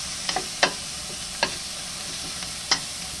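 Onions sautéing in a little oil in a pan: a low, soft sizzle runs throughout, broken by a few sharp scrapes and clinks as a utensil stirs them.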